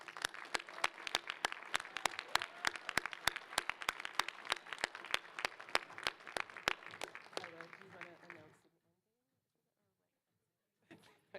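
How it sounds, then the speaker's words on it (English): Applause from a crowd at an Ethnic Gender and Disability Studies graduation ceremony, dense and steady clapping for about eight seconds before cutting to near silence, then a brief burst at the end. "give a final round of applause for all of you, graduating students"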